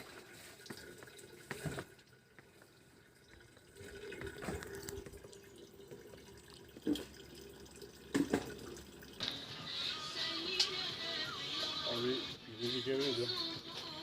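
Spring water runs into four large water jugs at a village spring, a steady trickling and splashing fill that grows louder in the last few seconds, with people talking over it.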